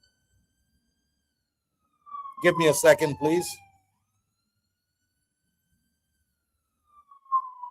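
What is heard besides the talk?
ambulance siren passing by in a city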